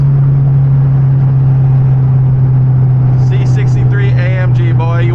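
A Mercedes C63 AMG engine holds a loud, steady drone close by, a strong low hum running throughout, with someone talking over it in the last couple of seconds.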